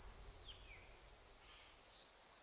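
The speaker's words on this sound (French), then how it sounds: "la cigale brise le silence abyssal avec son chant assourdissant" A cicada sings in a forest with a loud, continuous, high-pitched buzzing drone that holds steady throughout. A few faint bird chirps sound in the background, and nobody speaks.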